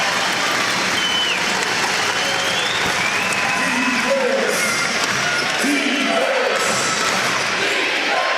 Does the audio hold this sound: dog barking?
no